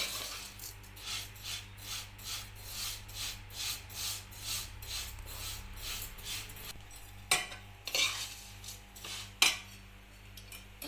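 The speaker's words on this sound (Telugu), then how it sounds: "సేమ్యాలని కొంచెం ఆయిల్ వేసి బాగా ఎర్రగా వచ్చే వరకు ఫ్రై చేసుకోవాలి" Vermicelli fries in a little oil for semiya upma while a utensil scrapes and stirs the pan in a quiet, steady rhythm, with a few sharper clinks toward the end.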